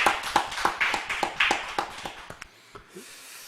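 A church congregation claps in praise, a quick run of sharp hand claps in a loose rhythm that tails off and stops partway through, leaving quiet room tone.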